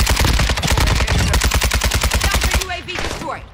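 Rapid sustained burst of AK rifle fire in Call of Duty, dozens of loud close shots in a fast, even rhythm for about two and a half seconds before stopping, followed by a brief quieter tail.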